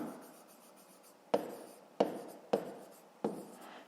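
A pen writes a fifth-grade math exercise by hand: a soft scratching run, then four sharp, close strokes at an even pace, alone and quiet.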